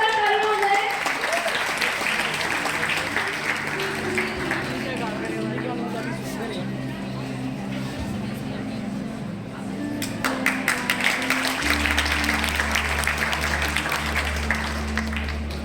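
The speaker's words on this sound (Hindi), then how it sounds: "जोरदार तालियां हो जाए" Audience applause welcoming a guest at an interview event, a loud spell of clapping at first that continues under chatter and spoken voices, then swells again near the end beneath a low hum.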